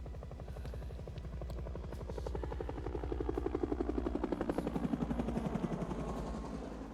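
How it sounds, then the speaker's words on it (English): Helicopter rotors in the Apocalypse Now soundtrack thump steadily and grow louder as they approach, a rapid low chopping pulse filling the space with no voices. "We hear the sound of helicopters come in to fill this moment of silence."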